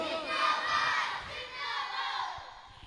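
A large crowd at a religious conference chants back in unison in response to a Naara-e-Takbir call, a loud, sustained collective shout that swells and then eases off.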